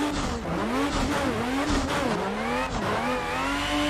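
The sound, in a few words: BMW E36 race car gear shift clunk in video game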